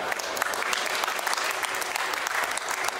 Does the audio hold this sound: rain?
no